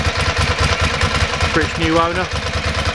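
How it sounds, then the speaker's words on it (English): Ducati Multistrada motorcycle fitted with a Termignoni exhaust, its engine running steadily at a low throb throughout, with someone talking over it. "So that's basically what a Multistrada sounds like with the Termi exhaust."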